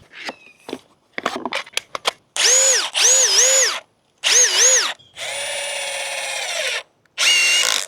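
A Milwaukee drill running on a CEENR battery drives fasteners in several loud bursts of whining motor speed, with rising and falling pitch and short pauses between runs, after some clicks and handling.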